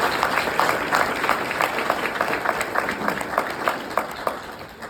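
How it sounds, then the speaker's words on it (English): A large crowd at a campus event applauds to thank the planning committee, a steady close wash of many hands clapping with no voices over it. "I want you to join me in a round of applause in thanking our planning committee."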